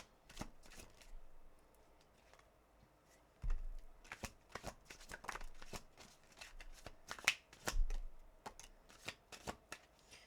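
Tarot cards are shuffled by hand in close, quiet, crisp bursts of riffling and soft slaps, separated by brief pauses.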